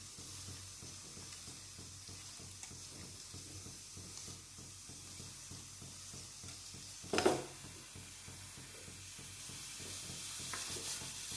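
Brinjal (eggplant) slices fry in hot oil with a dense, steady sizzle and crackle close by, broken by one sharper hiss burst partway through and a slight rise toward the end.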